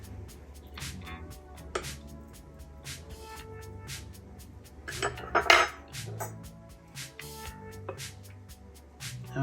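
Steak being plated with a few pieces of broccoli, heard as a string of light clinks and scrapes of utensils against a plate, close and intermittent, with one louder clatter midway and no talk.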